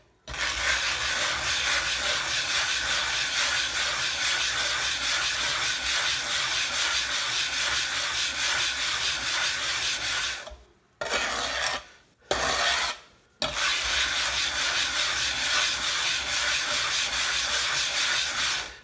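Granite powder grinds on a Washita sharpening stone as a blade is rubbed back and forth, a close continuous gritty rasp broken by a few brief pauses near the end, with no talking.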